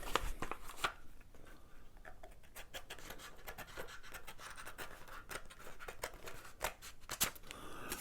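Scissors trimming the edges of a mosaic craft coaster: quiet, rapid snips and scratchy cuts repeating in an irregular rhythm, close but faint, with no talking.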